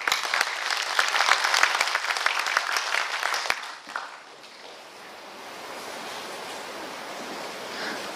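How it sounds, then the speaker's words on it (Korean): Audience applause welcomes a speaker at a Gangwon Special Self-Governing Province briefing in Yeongwol's cultural arts hall, a dense roomful of clapping for about four seconds before fading into a quiet hall murmur. "여러분 뜨거운 박수로 환영해 주시기 바랍니다."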